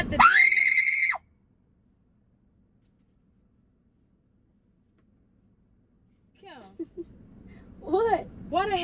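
A person screams loudly in one sharp, high burst lasting about a second, followed by long silence and then a few faint vocal sounds that rise and fall.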